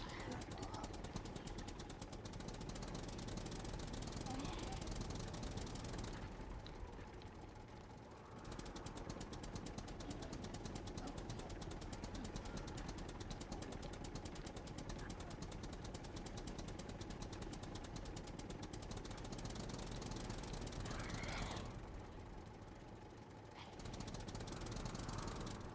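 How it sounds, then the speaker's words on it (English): A tractor engine in the survival game Scum runs steadily with a loud, rough, knocking chug that holds throughout, dropping out briefly twice. "I'm running them all over with the tractor."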